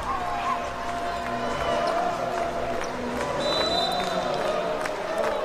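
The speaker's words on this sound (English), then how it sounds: "Hinkle Fieldhouse going a little bit wild here" A crowd at Hinkle Fieldhouse during a women's college volleyball match between Purdue and Butler, a busy arena roar of voices and shouts under sneaker squeaks and a whistle-like tone, sustained and fairly loud.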